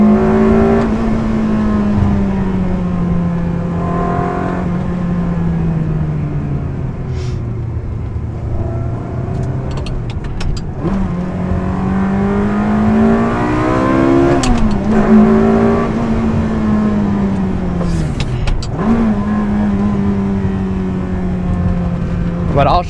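Ferrari 360 Spider with a gated manual gearbox, its engine revving loudly and steadily throughout while driving, pitch rising and falling through gear changes, heard close from inside the car with no talking.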